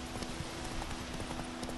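Horse hooves clip-clop at a steady trotting rhythm in The Witcher 3: Wild Hunt video game, close and continuous under a faint game ambience with a steady hum.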